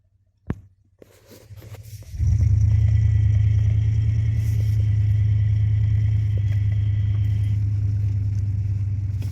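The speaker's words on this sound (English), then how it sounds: "We'll drive up there." A car engine turns over and settles into a loud, steady, close rumble as the vehicle drives along a work site, continuing without a break.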